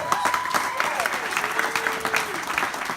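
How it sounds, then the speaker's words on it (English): An audience bursts into steady, dense applause at a victory party, sustained clapping from many hands with a tonal sound sweeping through it. "Give them a round of applause."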